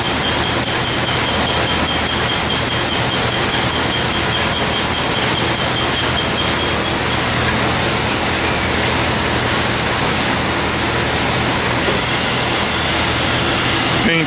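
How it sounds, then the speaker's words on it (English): A dip spin coating machine whirls its paint-laden basket to fling off excess paint, producing a loud, steady mechanical drone with a constant whine that holds unchanged throughout, no voices over it. "Spin off the paint. That'll spin the other way."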